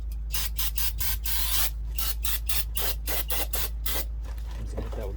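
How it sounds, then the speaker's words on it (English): Brake cleaner sprays onto a new rear brake rotor on a 2013–2017 Honda Accord in short repeated bursts of loud, close hissing, separated by brief gaps, over a low steady hum. "So what we're gonna do is hit this with brake cleaner really quick."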